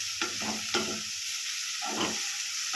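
Spatula stirring turmeric into chopped onions and green chillies frying in a pan for tomato curry, with a steady sizzle underneath and a few distinct scraping strokes, close and clear with no voices.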